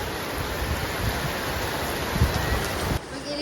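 Steady rain comes down outdoors at a swimming outing, a dense, even hiss that runs throughout and drops off abruptly near the end.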